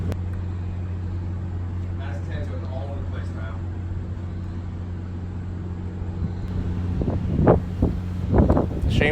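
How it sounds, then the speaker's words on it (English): Steady wind buffeting an outdoor microphone during a Survivor-style finale challenge, a constant low rumble throughout with voices talking over it toward the end. "Interesting way to block the wind."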